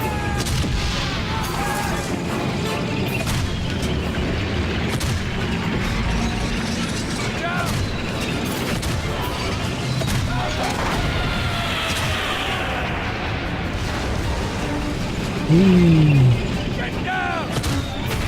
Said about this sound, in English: Oh, bombs.